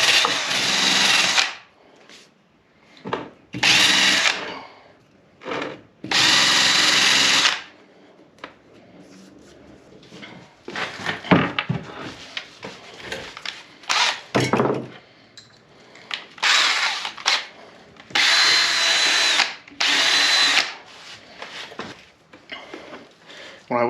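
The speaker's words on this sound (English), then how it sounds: "Forgot to clean my welding slag off." A power tool grinds welding slag off a welded rear differential in several loud separate bursts, broken up by scraping, knocking and quieter pauses.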